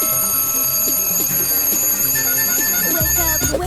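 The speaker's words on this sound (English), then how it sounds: "the alarm goes off" An alarm clock rings steadily and loudly in a Ronald McDonald movie scene with a sleeping dog, with a shrill repeating bell over a bouncy musical backing and a brief burst near the end.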